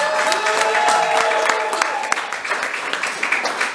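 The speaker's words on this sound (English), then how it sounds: "Make some noise if you're over 40. I'm always just curious. Clap it up." A comedy show audience in a tight space claps and cheers, with whoops and shouts over the clapping early on, then thinning out into scattered claps.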